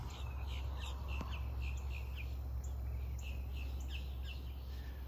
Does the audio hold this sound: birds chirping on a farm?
yes